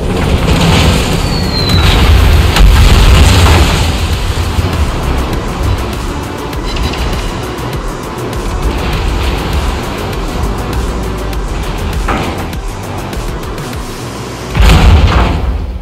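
Naval guns from the German battlecruiser Prinz Rupprecht boom in a video game battle, with heavy blasts near the start and end over a continuous loud rumble of engine and sea noise.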